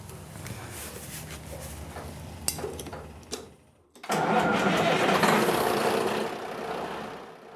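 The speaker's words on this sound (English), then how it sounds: "what we're doing now is just going to fire the engine up" A lifeboat's marine engine cranks over with ticking and clunks, stalls briefly, then catches and roars into a steady, loud idle.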